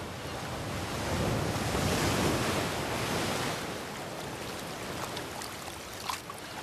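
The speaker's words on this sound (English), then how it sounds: "dozing to a symphony of wind and" Ocean waves wash continuously against a coast under steady wind, a broad surf roar that swells slightly and then eases, with some faint splashes near the end.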